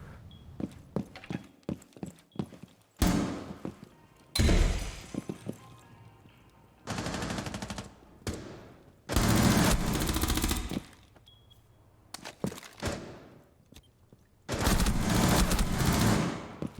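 Bursts of gunfire in Rainbow Six Siege, several loud sustained volleys of automatic fire separated by quieter stretches of footsteps and faint single shots, with no talking.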